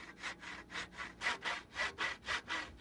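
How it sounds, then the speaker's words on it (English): A jigsaw rasps through wood being cut for a violin's soundboard or back, about ten rhythmic strokes in a steady back-and-forth pattern, close and clear. "He cuts them out and shapes their curves with a jigsaw"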